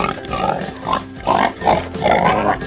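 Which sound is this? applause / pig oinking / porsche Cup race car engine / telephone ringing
pig oinking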